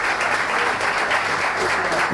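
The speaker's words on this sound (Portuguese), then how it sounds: "Este es el aplauso para el señor alcalde de Sao Paulo." Sustained audience applause at a municipal education forum in honor of the mayor of São Paulo, dense and steady clapping from a large crowd throughout, fairly loud and close.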